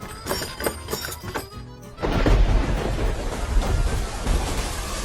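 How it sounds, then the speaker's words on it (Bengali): Steady rain falls as a loud, dense hiss, and a deep roll of thunder breaks in partway through and rumbles on beneath the downpour. "আহ, কতদিন পর বৃষ্টি হচ্ছে।"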